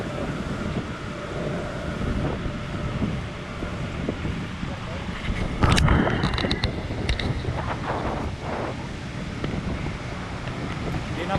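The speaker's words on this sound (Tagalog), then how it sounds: "Yung hangin pala no, umiikot pala talaga siya." Steady wind from a whirlwind buffets a small GoPro microphone with a low, continuous roar, briefly gusting harder midway, while faint voices murmur underneath.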